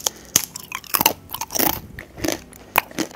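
Close, crisp crunches and bites into a thin tempeh chip, with irregular sharp cracks followed by chewing, no talking.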